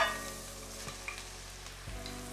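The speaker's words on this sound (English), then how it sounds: "we're gonna cook this for the next 3 to 5 minutes until those sausages are brown" Italian sausage browning in a pot for one-pot creamy spaghetti, a soft, quiet sizzle with a couple of stirring scrapes, no one speaking.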